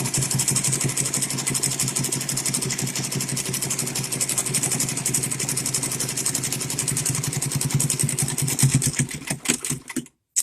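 A sewing machine with a heavy-duty needle stitches through thick layered shirt-cuff fabric in a fast, steady mechanical chatter, close and loud, running about ten seconds before it stops abruptly.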